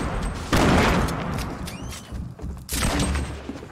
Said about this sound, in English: I hear these grenades.